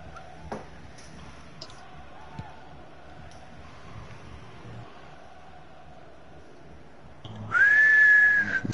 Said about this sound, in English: And there it is, the half-time whistle.